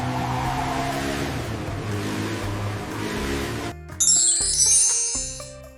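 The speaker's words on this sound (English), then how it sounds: "This is a fire motorcycle." A fire motorcycle's engine holds a steady, revving drone for several seconds, then cuts to bright chiming, jingling tones.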